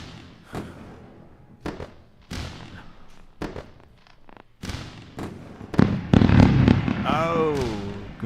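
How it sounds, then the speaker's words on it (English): Fireworks sound effect: sharp booming bursts and crackles, scattered at first, then thickening into a dense, loud barrage with whistling rising tones near the end. "fireworks"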